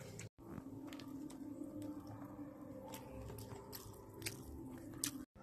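Close, quiet chewing and crunching as someone eats rice with fish curry, soft wet bites repeating irregularly with no talk.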